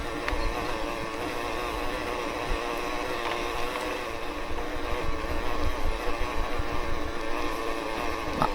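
Electric mountain bike motor running at an e-bike expo, a steady mechanical whine and hum held at an even level throughout, fairly close and without speech.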